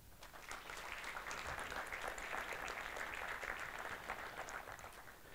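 Audience applauding conference sponsors at jDays 2016, steady dense clapping throughout at a moderate distance, with no talk over it.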